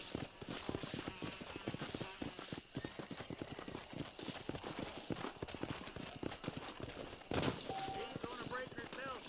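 Horse hooves clip-clop steadily in the Red Dead Redemption video game, a fast, even rhythm of close hoofbeats running throughout, with a brief whinny near the end and game dialogue speaking over them.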